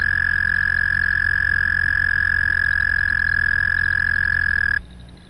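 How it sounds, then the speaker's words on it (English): Canadian toad giving a long, monotonous trill, a loud, steady, unbroken pulsing call held for several seconds before it stops abruptly, leaving quiet background. "The Canadian toad, the long monotonous trill, though not quite as long as the American toad."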